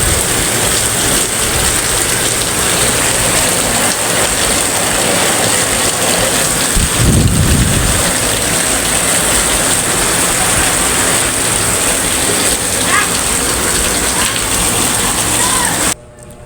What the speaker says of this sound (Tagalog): Lakasan ng ulan, oh!